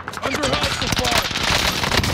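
Rapid automatic gunfire crackles in Call of Duty: Modern Warfare, a dense fusillade of close shots in quick bursts with voices talking over it.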